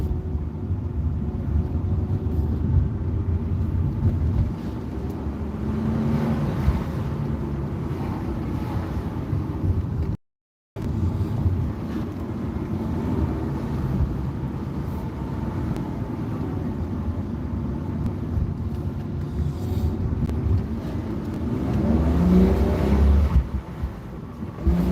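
A BMW car drives along with a steady low engine rumble and road noise, heavy wind buffeting the microphone throughout, broken by one brief dropout midway.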